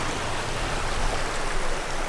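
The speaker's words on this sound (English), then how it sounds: "we reached another water crossing here." Water rushing along Horse Creek at a stream crossing on an off-road trail, a steady broadband wash that stays even and fairly loud throughout, with no voices.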